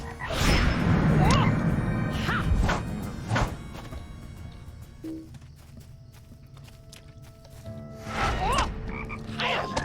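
Frog or toad croaks in the LOTRO video game mix with a horse's clip-clopping hooves and footsteps, the croaks repeating at intervals, fairly close, with quieter stretches between.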